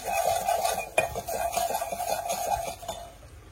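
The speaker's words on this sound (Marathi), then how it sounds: "आता छान पैकी त्याला मिक्सिंग करून घेऊया." Turmeric powder being stirred into a hot tempering with asafoetida for poha chivda, heard as a steady scraping stir with soft clinks of a spoon against the pan over a faint sizzle, close and alone.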